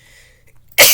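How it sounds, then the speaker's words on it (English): A single sudden sneeze bursting out loud and close at the end of a near-silent moment. "I meant to pause the video so you guys won't see me sneeze"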